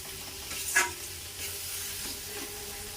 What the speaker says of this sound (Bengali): যতক্ষণ পর্যন্ত না এই কাঁচা গন্ধটা চলে যায় ততক্ষণ পর্যন্ত মশলাটাকে কষাতে থাকবো